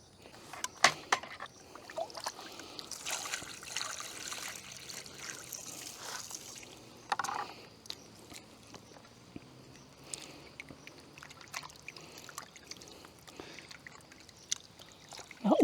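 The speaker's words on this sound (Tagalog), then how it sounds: "Ulan na yata." Rain beginning at a forest campsite in Malico during a solo motorcycle overnight camp, with soft trickling and pattering drops, a steady broadband hiss, and scattered brief clicks and knocks close by.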